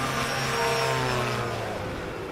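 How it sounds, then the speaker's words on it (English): A STOL airplane engine with nitrous boost during a short-takeoff run at the 2025 Sun 'n Fun STOL Invitationals, a loud, steady propeller drone with a harmonic whine whose pitch sags slightly toward the end. "You can hear the engine. There's nitrous on that airplane."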